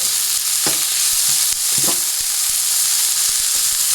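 Garlic, onions and peppers fry in a hot pan for a Bengali fish curry, a steady close sizzle broken by a few scraping stirs of the spoon with no talking.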